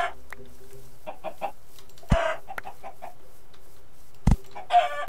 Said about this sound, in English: Tons of chickens.